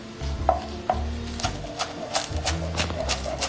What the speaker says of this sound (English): we're gonna cut the green onions.